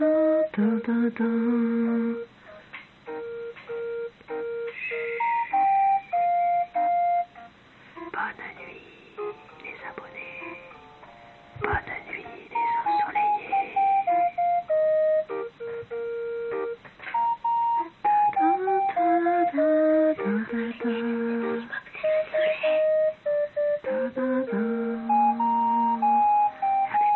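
Background music from Animal Crossing: New Leaf, a chiptune-like melody of bright sustained synth notes in stepwise phrases, playing steadily with brief pauses and faint talk mixed in.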